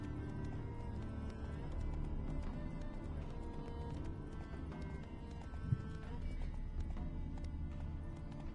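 Hooves of Geralt's horse Roach clip-clop steadily in The Witcher 3, with an occasional snort or whinny over a dense bed of game music and ambience; speech is present at times.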